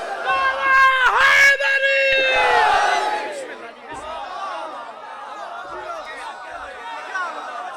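At a Muharram majlis gathering, a crowd shouts the religious slogan Nara-e-Takbir together in loud, drawn-out calls, followed by a lower murmur and scattered voices at moderate distance.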